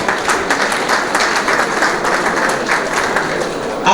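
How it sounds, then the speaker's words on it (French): Wedding guests at an evening reception clap steadily and loudly for about four seconds, a dense, even burst of applause from a nearby crowd, with faint voices mixed in underneath. "Un autre homme intègre qu'on va applaudir très fort,"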